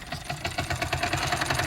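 A small dry ice carbon dioxide engine runs with its wheel spinning, giving a quiet, rapid mechanical ticking and chuffing rhythm close by.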